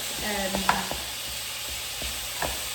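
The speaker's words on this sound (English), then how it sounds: "I use a wooden spoon just to break down the mince" Pork mince sizzles in a pan while a wooden spoon breaks it down, giving a steady low fry hiss broken by a few sharp scraping and tapping knocks.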